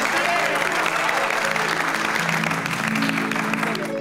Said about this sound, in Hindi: एक बार बबीता जी के लिए जोरदार तालियां